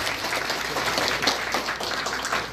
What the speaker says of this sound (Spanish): Vengan los aplausos.